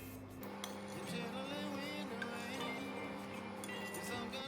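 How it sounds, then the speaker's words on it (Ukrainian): A spoon scrapes faintly across a plate of thick apricot jam with a few light clinks, set against a steady tonal background. "Проводжу ось так ложкою."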